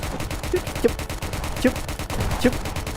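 Gunfire in Prison Life comes as rapid bursts of repeated shots over a dense busy background, with a few sharper cracks standing out at irregular intervals.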